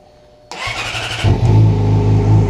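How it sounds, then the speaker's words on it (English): A 2008 Yamaha R6 motorcycle engine starting after a coolant change: a short starter whir, then the engine catches and settles into a loud, steady close-up idle. "Let's start the bike up."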